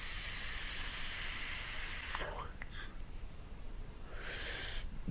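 Exhaled vapour from an electronic cigarette running Kripton 50-50 e-liquid at 20 watts, a steady close breathy hiss that drops away briefly midway and then returns.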